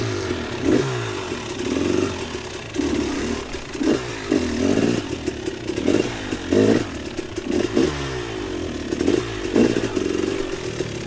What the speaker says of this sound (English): let's see if I can get my bike out of here